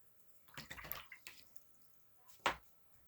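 A watercolor brush is swished and tapped in a water jar, giving a cluster of small close splashes and drips followed by one sharper splash, faint and quiet with no talking.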